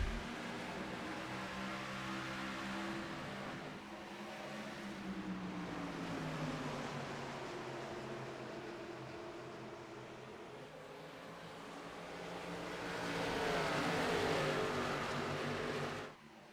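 Race cars at New Hampshire in the iRacing sim roar continuously in a dense engine drone, swelling and shifting pitch as the pack circulates, then surging louder near the end.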